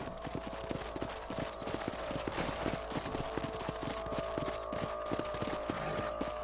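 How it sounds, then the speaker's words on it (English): Steady clip-clop of horse hooves at a brisk gait while riding in Red Dead Redemption, with a continuous game ambience and a faint horse snort, heard alone without talk. "Mount back up."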